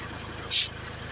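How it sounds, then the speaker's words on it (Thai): An engine-driven water pump runs while it drains water to catch fish, a steady low mechanical throb beneath broadband rushing hiss, with a brief brighter spray burst near the middle. "ไม่ต้องเร่งเครื่องแรงเลยครับนี่ถ้ามันพุ่งอย่างนี้"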